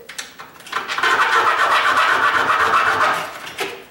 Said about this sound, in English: just a hacksaw blade.